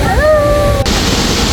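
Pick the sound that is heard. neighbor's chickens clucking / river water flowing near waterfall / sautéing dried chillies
river water flowing near waterfall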